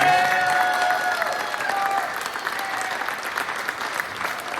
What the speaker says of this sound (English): Can we just give them all another round of applause?